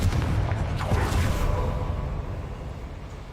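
A Confringo fire spell blasts off in Hogwarts Legacy, one heavy boom with a whooshing burst that fades into a long, low rumbling tail.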